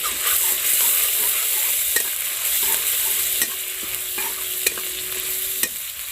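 Masala frying in hot oil for a crab curry, a steady loud sizzle under light stirring, with a few sharp clicks of a utensil against the pan.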